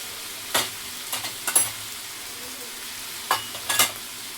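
Mutton with garam masala and spices stirred in a pot: quiet low sizzling broken by a few sharp scraping strokes in two short bursts, without speech.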